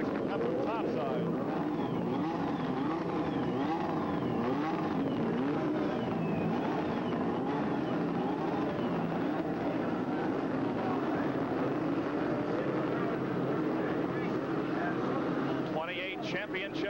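Twenty-eight 1983 CART IndyCar championship cars idle and rev on the grid before the Cleveland 500k on a 2.48-mile road course. Their engines make a wavering, rising-and-falling drone that sits low in the mix, mostly under continuous talk.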